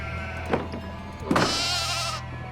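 Sheep bleating in the Nancy Drew game Haunting of Castle Malloy, two distinct bleats about a second apart, the second longer and louder, over a steady low game-ambience hum with no talk.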